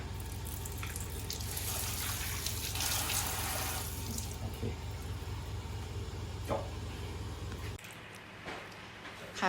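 Water runs steadily from a newly fixed tap, a continuous close splashing stream that cuts off abruptly near the end, leaving faint background noise.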